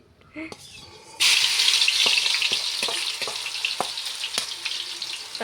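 Ginger, garlic and shallot paste hits hot oil in a home kitchen pan and bursts into a loud, steady sizzle, with repeated sharp scrapes and taps of a spoon as it is stirred.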